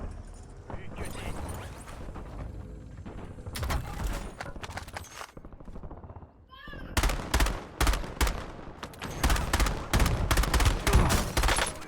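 Rapid bursts of video-game gunfire, dense and loud, with repeated volleys clustered in the second half and a quieter stretch of scattered shots before; a voice talks over parts of it.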